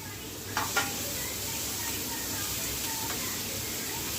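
Tomato dropped into a hot pan for a Maharashtrian dal-onion dish sets off a steady frying sizzle, with a couple of brief clatters near the start and a faint voice in the background.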